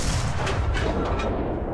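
The main gun of a Dicker Max tank destroyer fires in the Enlisted video game, a loud, close blast followed by a heavy, rumbling roar that fills the short clip and slowly decays.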